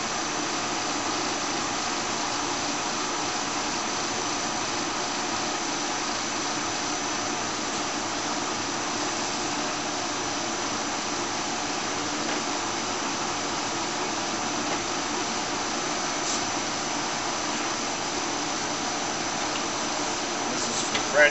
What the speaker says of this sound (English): Monarchs are real nice, smooth running lathe.